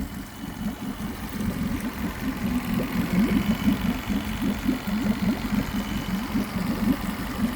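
A 2021 Yamaha F9.9 outboard motor runs steadily at idle, a close, even mechanical putter with a rapid, slightly knocking pulse that holds for several seconds, no voices.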